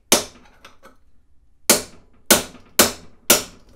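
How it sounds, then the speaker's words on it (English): A steel rod is tapped with a hammer against a dirt bike steering stem bearing, giving five sharp metallic strikes, two close together, then a pause, then three more at a steady beat, loud and near with no voices. "I'm just gonna angle it and get it right on the edge, and then just tap it."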